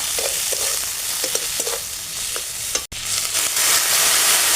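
Village-style mourala fish curry with salt, turmeric and green chillies is stirred in a pan under a continuous loud sizzle, with rhythmic scraping strokes close to the listener and no talking.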